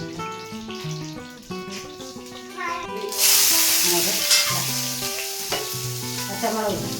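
Mustard seeds sizzle and pop in hot oil for a beetroot pachadi, a bright crackling hiss that swells loudly around the midpoint and carries on steadily over background music.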